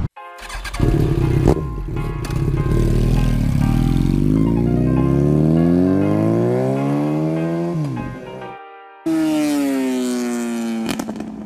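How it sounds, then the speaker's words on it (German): A loud, close motorcycle engine revving up through rising gears, pitch climbing steadily, then a brief drop before roaring again. "Ich liebe mein Motorrad, ich liebe mein Motorrad."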